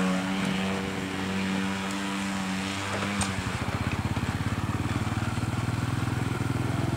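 A motorcycle idles steadily, then at about three seconds its engine note shifts into a louder, pulsing rumble as it pulls away, the revving continuing close and strong to the end.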